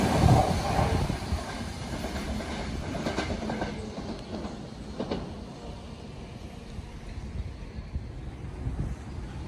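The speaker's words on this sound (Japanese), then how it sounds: "電車に乗り込んで、揺られること1時間" Steady rumble and rattle of a moving Japanese train carriage, with rhythmic clatter of wheels on track, continuous and fairly loud throughout.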